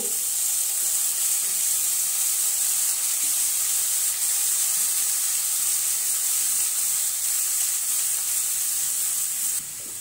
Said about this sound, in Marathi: पनीर टाकून आपण परतून घेऊया।